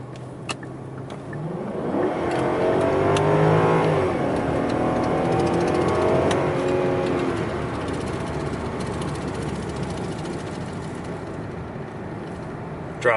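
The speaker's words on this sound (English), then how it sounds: "Dropped down a couple gears and just took off." A Mazda3 pulls away hard after dropping a couple of gears, its engine note climbing loudly through a sweeping rev rise before holding a strong, steady roar.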